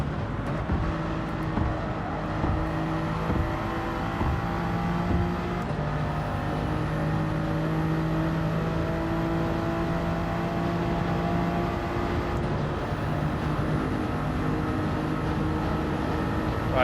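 Race cars in Gran Turismo 7 roar in a steady, continuous engine drone with long held tones and occasional pitch shifts as they run side by side, with no talk over them.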